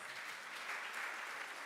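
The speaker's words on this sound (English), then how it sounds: "Can we give her a round of applause?" A conference audience applauds a speaker at a midwifery and obstetrics event, with even, sustained clapping from many hands throughout.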